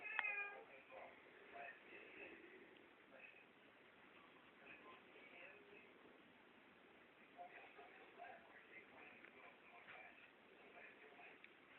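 A lazy pet cat gives a few faint meows that are partly masked by low background noise and brief speech nearby.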